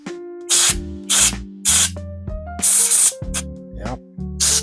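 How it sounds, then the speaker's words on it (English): Short repeated bursts from a can of compressed air blowing dust out of an HP ZBook laptop's fans, five or six loud hissing sprays with brief gaps and faint whirring of the spinning fans between them. "We're going to take this can of compressed air and we're going to blow out these fans."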